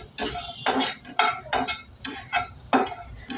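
A spoon stirs coconut and ginger masala in a pan, scraping and clinking against the metal in a steady rhythm of about seven close, distinct strokes, with no voices.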